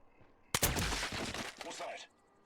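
A burst of rapid gunfire from a shooter game (Killzone 3) played with a motion controller, starting sharply and rattling densely for about a second and a half before cutting off.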